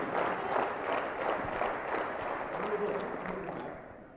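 A crowd in Espoo, Finland, applauds at a padel tournament final, with steady clapping and some crowd noise that fades slightly toward the end, as a voice talks over it.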